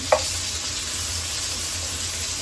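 Vegetables sizzling steadily in a hot pan, a constant hiss with a brief clink near the start and no talking.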